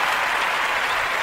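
Applause sound effect on a podcast, a dense wash of crowd clapping that is steady and fairly loud throughout the short stretch.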